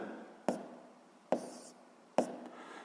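Handwriting an answer with a pen on paper, three short quiet scratching strokes spaced about a second apart in a quiet room.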